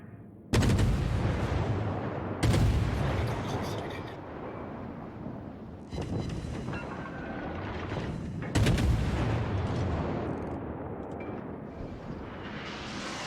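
Heavy naval guns boom in World of Warships, four big broadband blasts spaced a few seconds apart over a constant dense rumble of battle noise, with no talking.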